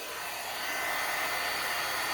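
Steady, faint blowing hiss of a heat embossing tool melting silver embossing powder on a handmade card, a continuous airy drone with no talking.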